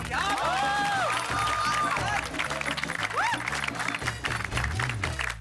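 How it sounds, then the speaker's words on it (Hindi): Steady studio audience applause on the Taarak Mehta Ka Ooltah Chashmah TV show set, continuous and fairly loud, with a musical tone and some chatter mixed in. "ताली बजा इनके लिए जी."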